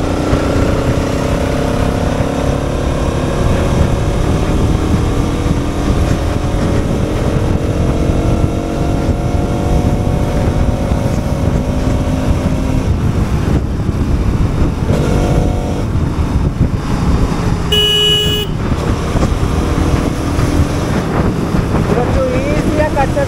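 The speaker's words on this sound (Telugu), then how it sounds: "పికప్ చూద్దాం ఇప్పుడు. Let's pull up the throttle." A Bajaj RS200 motorcycle pulls hard in sixth gear from about 40 km/h, its engine note climbing steadily under loud, constant wind rush close to the microphone, with no talking.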